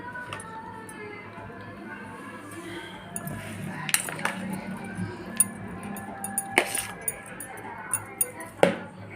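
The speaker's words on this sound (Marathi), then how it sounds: "आता हे सगळं हलवून घ्यायचं आहे" Aloo chaat being mixed in a bowl with a spoon, irregular clinks and scrapes of metal on the bowl, sparse at first then quicker and sharper, close by over a low room hum.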